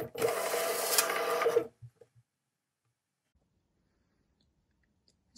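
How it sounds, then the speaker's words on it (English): A MUNBYN RealWriter 941 thermal label printer runs off Royal Mail shipping labels, giving a steady, dense mechanical whir for about a second and a half, followed by a few faint clicks and then silence. "So I'll just press print now and my labels will start to print."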